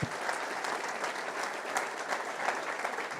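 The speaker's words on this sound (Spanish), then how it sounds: "Porque no le damos un aplauso." A church congregation claps together in steady, dense applause, even and moderately loud throughout, with no one speaking over it.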